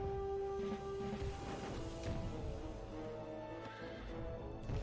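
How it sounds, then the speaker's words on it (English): Horses in the strategy game Rise of Nations neighing and whinnying amid a large cavalry group, with hoof clip-clop and battle bustle underneath, fairly loud and continuous. "That's a lot of horses."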